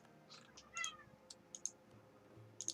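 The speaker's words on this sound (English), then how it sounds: "stop whining at me, kitty" A house cat gives a few faint, short meows close by in a quiet room, mixed with soft clicking like a mouse or keyboard.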